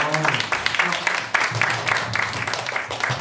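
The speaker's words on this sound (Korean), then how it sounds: "박수 한번 크게 한번 주세요." Audience applause at a Korean talk show after a designer's product presentation, dense clapping from a crowd in a studio hall, with a host's voice over it.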